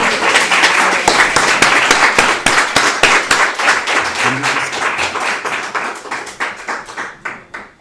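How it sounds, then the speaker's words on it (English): Convention audience at a national political gathering applauding, dense clapping that starts full and loud, then thins into scattered individual claps that fade toward the end. "Uhuru, let's hear another round of applause for Fofi Alkebalon."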